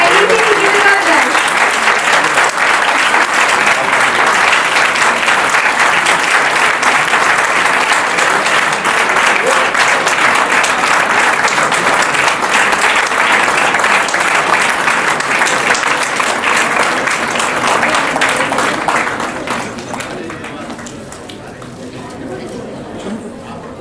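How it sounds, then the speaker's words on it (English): An audience at an exam results celebration gives a long round of loud, steady applause, with crowd chatter underneath, before the clapping fades away near the end. "Please give a big round of applause."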